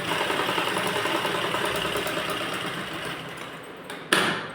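A sewing machine stitching fabric for a belt blouse runs in a steady rapid whir with a faint clatter, close and continuous, ending in a short sharp burst.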